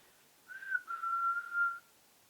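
A single clear human whistle rings out during a paranormal investigation at the Ancient Ram Inn, a steady tone lasting just over a second that slides slightly, heard alone against quiet room noise.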